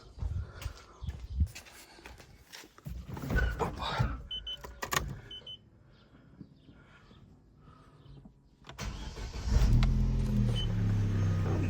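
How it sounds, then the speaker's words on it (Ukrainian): An imported car from Holland starts up, its engine catching after some handling noises and then settling into a steady, fairly loud idle that runs to the end. "Давайте заведу вам її. Моторчик працює гарно"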